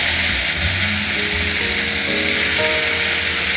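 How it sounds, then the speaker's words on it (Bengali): Ginger and green chilli paste sizzles in hot oil in a home kitchen pan, a steady close hissing crackle that runs without a break. Faint tonal hums show up over the sizzle. "এবার আমি প্রথমে আদা আর কাঁচা লঙ্কা পেস্টটা দিয়ে দিলাম।"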